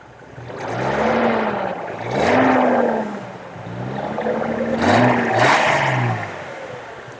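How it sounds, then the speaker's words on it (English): Datsun 280ZX straight-six engine revving repeatedly through its exhaust, rising and falling in several swells close by, with no talk over it. "that's an impressive exhaust note for a straight six"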